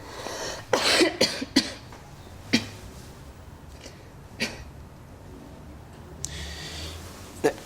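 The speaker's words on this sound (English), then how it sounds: "Cough again for me, will you?" A man coughs several times in a quick cluster, then lets out a few scattered single coughs against a quiet room background.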